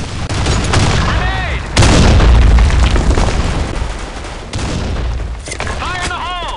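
Grenade blasts from the shooter game BlackShot, Sand Storm II map, with booming explosions and gunfire bursts, a big blast near the middle and another later, with a voice shouting over the combat.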